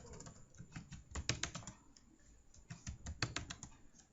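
Computer keyboard typing during a Cisco switch telnet login, quiet and close, with bursts of rapid key clicks separated by short pauses.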